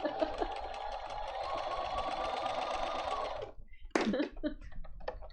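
Sewing machine stitching an applique at a workshop, running steadily with a dense mechanical whir for several seconds, then stopping, followed by brief clicks and handling noises.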